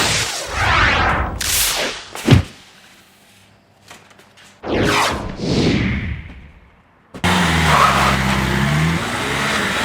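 A van rolls into a garage, its engine surging in loud close bursts with whooshing passes and a sharp thump, pausing in near silence before a steady running drone resumes.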